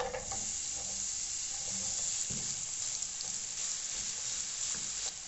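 Onion sizzles steadily in hot sunflower oil in a frying pan, a constant bright crackling hiss, close up, with a few light clinks of stirring.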